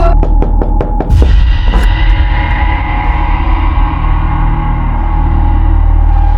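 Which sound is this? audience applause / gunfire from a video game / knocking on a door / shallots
knocking on a door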